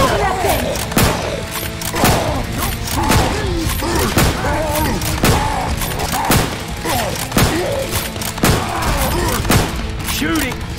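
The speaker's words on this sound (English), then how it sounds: "You shoot the shit out of that thing!" Rapid gunfire from Left 4 Dead 2 rattles almost continuously during a fight with a Tank, sharp close shots overlapping dense, loud combat noise while voices shout.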